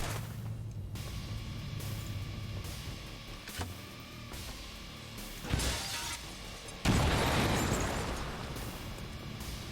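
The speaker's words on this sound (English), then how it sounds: "I'm sinking a grenade into him." A grenade blast in the video game XCOM: War of the Chosen, a sudden loud burst of broadband noise that sustains and slowly fades, following an earlier shorter crackling boom; no talk over it.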